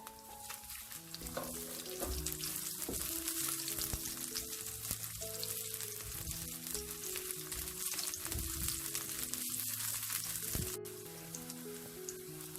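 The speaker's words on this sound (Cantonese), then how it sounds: "打爆啲薑片、蒜片。" A steady, close sizzle of ginger and garlic slices frying in oil with occasional stirring clinks, continuous throughout with soft background music.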